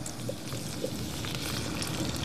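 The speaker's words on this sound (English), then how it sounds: "Now we're just going to pour the tomatoes in." Canned tomatoes pour into a pan of hot oil for a sauce, a steady close wash of liquid splatter and sizzle that runs through the whole short moment with no talk over it.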